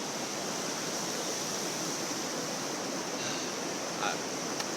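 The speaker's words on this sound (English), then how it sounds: "here I am, the Colorado River." Broad steady roar of the Colorado River flowing through the Grand Canyon below Havasupai, a constant rushing wash with no break, faint brief sounds near the end.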